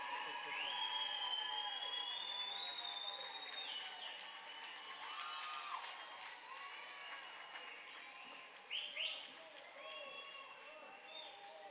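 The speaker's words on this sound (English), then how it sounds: "Let's give these guys a huge round of applause." A crowd at the 2022 South Dakota Rock and Roll Hall of Fame ceremony applauds steadily for the Cartwright brothers, with sustained clapping, scattered cheers and whoops, and some voices mixed in, tapering slightly toward the end.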